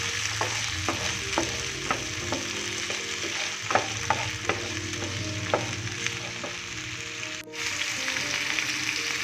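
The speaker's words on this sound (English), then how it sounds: "Fry them well." Vegetables frying in a pan for masala poha give a steady close sizzle, with sharp spatula clicks and scrapes at irregular intervals as they are stirred, and no talking.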